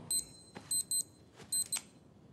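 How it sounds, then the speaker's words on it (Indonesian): Wristwatch alarm in a scene from the TV series The Terminal List, heard as clustered high electronic beeps in short bursts of two and three, sharp and close, with no talk. "dia tersadar karena bunyi alarm jam tangannya"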